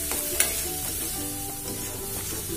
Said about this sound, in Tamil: இந்த மசாலாவை போட்டு இந்த பச்சை வாசனை போகிற வரைக்கும் இதை நல்லா வதக்கணும்.